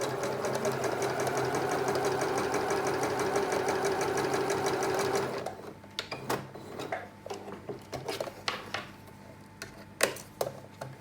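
A sewing machine runs in a fast, steady rhythmic stitching burst as quilt block squares are joined, then stops, followed by quieter clicks and handling noises.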